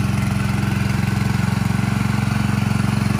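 A farm chemical hopper's engine idles steadily while its suction draws a tank dry, giving a loud, close, evenly pulsing drone with no talking.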